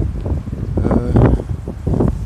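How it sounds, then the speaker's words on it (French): Gusty wind buffets an outdoor microphone with continuous low rumbling and rustle, swelling and easing over a couple of seconds without speech. "il y a un peu de vent"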